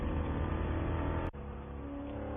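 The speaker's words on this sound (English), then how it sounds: "You hear the hum as you get up over the curbs." Onboard a Spec Corvette racing at Sonoma Raceway, a loud, steady engine drone hums as the car rides up over the track curbs, with a brief sharp dropout midway before the tone resumes.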